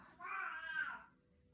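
A cat gives a single drawn-out meow up close indoors, rising and then falling over about a second.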